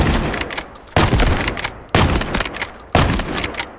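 An M870 shotgun in the game Delta Force fires four loud, booming shots, spaced about a second apart, each with a short ringing tail, right after a reload and with no talking over them.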